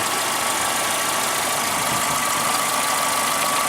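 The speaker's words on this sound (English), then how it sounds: "I can barely hear the valves making a little noise" A 1996 Suzuki X-90 engine idles steadily with a continuous, even hum and faint valve ticking, no voices present, constant level throughout.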